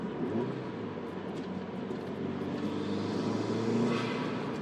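A turbocharged sports car engine holds a steady, throaty drone after a downshift, rising slightly in loudness toward the end. One brief excited exclamation is heard over it.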